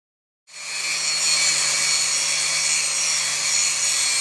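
After a moment of silence, a grinder starts up and runs loud and steady, grinding down and flattening a metal plate on a hay squeeze with a bright, harsh continuous whine.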